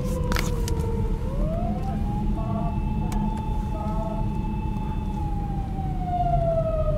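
A wailing Japanese police car siren sweeps slowly up and down at a moderate distance over steady low traffic rumble, with police responding to an incident at a game arcade.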